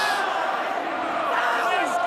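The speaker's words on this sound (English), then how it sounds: "This crowd is incredible." A big rugby league crowd at Combank Stadium during a 2025 Pacific Championship match between the New Zealand Kiwis and Toa Samoa, singing hymns in a steady, sustained roar with faint tonal singing, under a commentator's voice.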